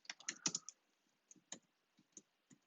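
Quick bursts of keystrokes on a computer keyboard, a flurry of clicks followed by sparser, isolated taps in a quiet room.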